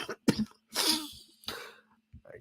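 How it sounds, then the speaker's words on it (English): A man coughs several times in quick succession, close and fairly loud, with short throaty bursts and brief gaps of near silence between them. "I coughed because that joke was so bad."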